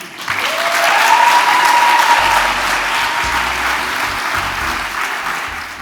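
A large audience at a Dubai graduation ceremony breaks into loud, sustained applause that swells and then gradually thins, with a brief whistle-like tone near the start.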